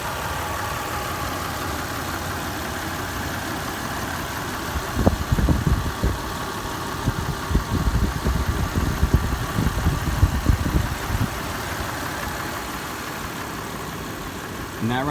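Toyota 5VZ-FE V6 in a 2004 Tacoma with 217,304 miles, idling steadily with the hood open, a close even drone with clicks and rustles in the middle stretch.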